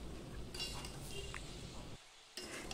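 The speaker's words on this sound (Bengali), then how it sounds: "এবার ভালো করে শাকের সাথে নুনটাকে মিশিয়ে নেব।" Fenugreek greens being stirred with salt in a pan over a medium gas flame, a steady scraping and rustling with faint clinks of the utensil against the pan, pausing briefly before resuming.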